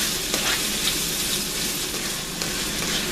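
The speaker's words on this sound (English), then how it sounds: "Heat the oil and then saute the onions in the oil. Add the garlic also." Onions and garlic saute in hot oil for a corned beef stew, giving a steady, close broadband sizzle with faint crackles throughout and no talking.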